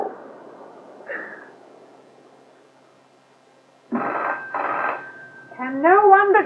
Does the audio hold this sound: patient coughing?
no